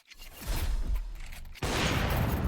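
AK rifle fire in Counter-Strike 2 during a professional match, with a burst of shots and a whoosh that give way to a loud, dense spray of gunfire, heard without speech.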